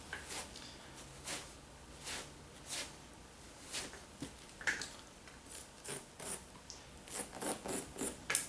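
Scissors snipping through the cotton stockinette and padding of a bivalved cast being removed: a series of short, crisp cuts with soft rubbing of fabric, irregular at first and quickening toward the end, close and fairly faint.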